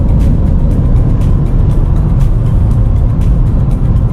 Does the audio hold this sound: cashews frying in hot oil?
no